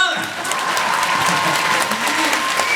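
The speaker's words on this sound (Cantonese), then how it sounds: "叫人俾多啲掌聲" An audience at a stage event with a singer applauds, a dense continuous clapping that stays loud and even throughout, with a voice speaking over it.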